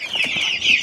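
Chickens on a small farm give a brief burst of close, fairly loud clucking and squawking, several birds calling over one another in under a second.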